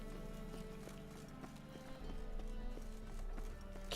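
Rhythmic hoofbeats of a galloping horse in The Witcher 3 pound steadily over a backdrop of game music, with no one speaking.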